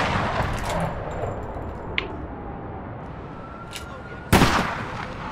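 Gunfire in a third-person online shooter set in a city: scattered shots over steady background noise, ending in one loud, close blast that keeps echoing.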